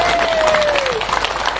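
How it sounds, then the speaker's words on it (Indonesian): Audience applause at an Indonesian religious gathering (tabligh akbar) greets the village head, a dense, steady wash of clapping from a crowd with a faint tonal whistle or feedback line at the start. "Tepuk tangan buat Pak Kades dulu."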